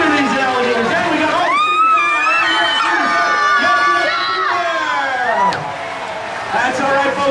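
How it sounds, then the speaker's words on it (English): An excited crowd of spectators screams and cheers loudly at alligators during a live show at Gatorland, with a steady roar of voices and children's shrieks, dipping briefly near the end before swelling again. "Come on, folks, scream at these alligators."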